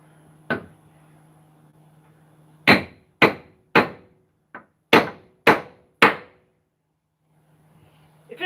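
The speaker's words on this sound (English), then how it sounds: "If in doubt, hit it with a hammer." Hammer striking hard, ringing blows in a quiet setting: one early hit, then a pause, then a fast series of about seven sharp, loud impacts at an irregular rhythm, each decaying quickly.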